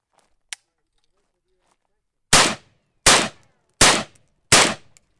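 AK-47 rifle firing outdoors during a reliability torture test: four loud, sharp gunshots spaced about three-quarters of a second apart, each with a short ringing decay, preceded by a single faint click.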